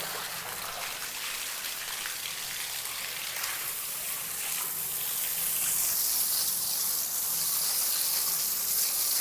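Water gushes steadily from a pipe into a flooded rice paddy, a continuous broadband splashing and rushing that swells louder in the second half, with no voices.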